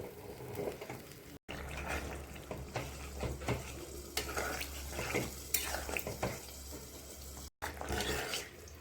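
Paneer and potato curry simmers in a pot after hot water goes in, giving a steady bubbling hiss over a low hum. Light clinks and clatter from the pot come through now and then.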